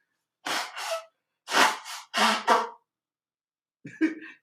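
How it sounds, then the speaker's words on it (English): A person blows their nose in several forceful, breathy bursts, close and fairly loud, with short pauses between, followed by a faint sniffle. "Let me blow my nose."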